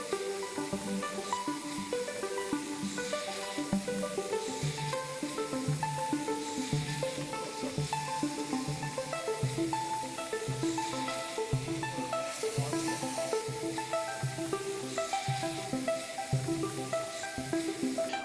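Ground meat browning in a hot frying pan for an Italian dish, giving a steady, dense sizzle and crackle that runs unbroken throughout at moderate, close volume.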